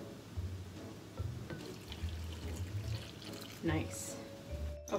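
Liquid being poured while cooking in a home kitchen with a one-year-old helping, a soft watery pour and trickle running under ongoing adult talk and a child's sounds, with a brief splash toward the end.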